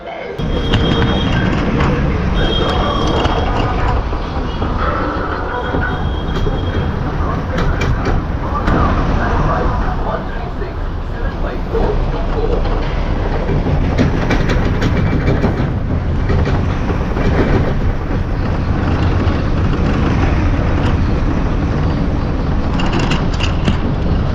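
A train rumbles along the tracks between Subrahmanya Road and Mangalore with a steady, loud roar and occasional rattling clatter throughout, a continuous ride with no clear speech.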